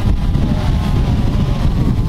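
Strong outdoor wind buffets the microphone in a loud, steady rushing roar, heavy in the low end and lasting the whole time while a Mavic 2 Pro drone is flown in windy weather.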